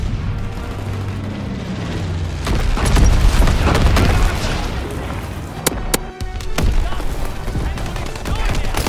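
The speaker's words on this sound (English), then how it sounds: "Enemy bomber, incendiary bombs incoming." Incendiary bombs explode in the Call of Duty: WWII video game, a loud rumbling boom that swells and rolls on with scattered gunfire cracks, sharp metallic hits near the end.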